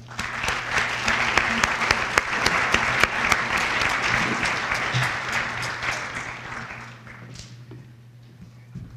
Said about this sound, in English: please put your hands together in welcoming our speaker for the night, Dr. Kelly Klein